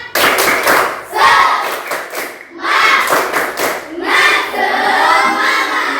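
A class of students performs the rhythmic 'tepuk semangat' clap in three loud bursts of group clapping mixed with chanting voices, with short pauses between the rounds.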